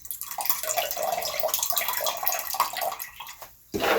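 Mango juice mixture for mango wine pouring into a one-gallon primary fermenter, a close gushing, splashing stream running for a few seconds before stopping, then a brief clatter.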